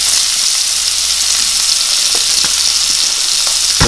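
Butter sizzles loudly in a hot pan alongside chicken, a dense continuous frying hiss with a few faint stirring clicks, close up and without speech.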